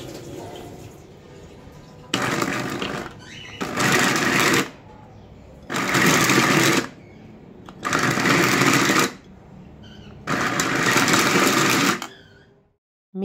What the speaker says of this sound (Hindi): इन ठंडी रोटियों के ठंडे टुकड़े जो नॉर्मल रूम टेम्परेचर पर आ चुके हों इसे आप ग्राइंडर में डाल के अच्छी तरह से ग्राइंड कर लें